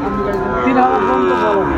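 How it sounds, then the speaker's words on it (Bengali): A Sahiwal bull calf moos loudly and close by, one sustained low bellow lasting nearly two seconds. "শাইওয়ালের ষাঁড় বাচ্চা"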